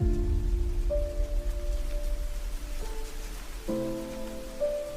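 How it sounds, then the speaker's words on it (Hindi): Steady rain pattering on window glass during a wet-season shower, a continuous soft drumming of drops with faint tonal hums beneath, with no voices. "बरसात की टिप टिप और खिड़कियों के गिलास पर एक दूसरे से रेस अड़ाती बूंदें।"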